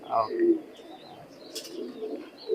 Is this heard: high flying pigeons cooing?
yes